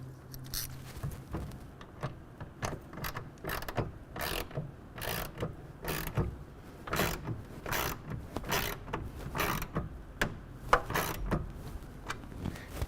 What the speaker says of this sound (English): We're going to take a 1/2 inch wrench or ratchet, and we're going to tighten it down.